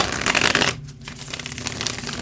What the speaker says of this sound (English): we're going to start with the shuffle